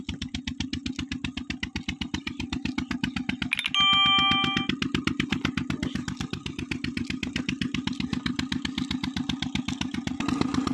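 A very small, old engine runs a village water pump outdoors, its steady rapid thumping firing pulses loud and close throughout, with a brief high whistling tone partway through.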